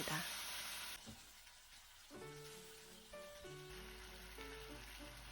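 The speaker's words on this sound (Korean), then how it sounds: "이제 우엉을 넣고 볶아줍니다." Burdock root and sweet potato stir-frying in seasoning sauce, with a steady close sizzle and hiss, a brief scrape near the start and faint clinks of utensils against the pan partway through.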